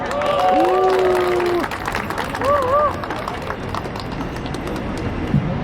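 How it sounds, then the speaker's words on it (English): Crowd applause at a Nepali-American flag raising ceremony in New York City, loud outdoor clapping with a voice and chatter on top, fading slightly toward the end. "Please help me give a warm round of applause"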